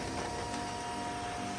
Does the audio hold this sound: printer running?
yes